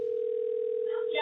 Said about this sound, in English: He's got a cell phone. I'll call the phone.